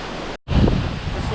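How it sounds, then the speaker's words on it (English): Roaring water at Sekumpul waterfall, a strong and windy fall, surges as a loud, steady broadband wash with wind buffeting the microphone, briefly cutting out before swelling again. "This is like the strongest and windiest waterfall"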